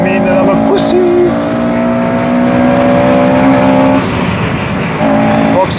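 Honda Civic Type R FN2 with a K20 VTEC engine on track at the Nordschleife, a loud sustained in-car engine drone with a shifting pitch, and someone talking over it.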